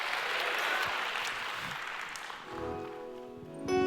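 A church congregation claps steadily in a dense wash of applause that fades, followed by sustained musical tones starting at the end.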